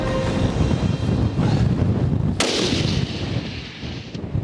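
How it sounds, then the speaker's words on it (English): A single sharp rifle shot rings out during a kudu hunt in South Africa, a sudden loud crack partway through, set against steady wind buffeting the microphone, then a brief echoing tail. "you can click off the safety, hold 4 minutes of wind and squeeze the trigger"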